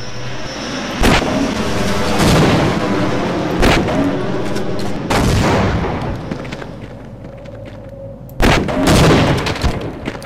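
Several sharp, loud gunshots in the video game Half-Life ring out in bursts over a steady engine-like rumble, each blast followed by a short decaying echo.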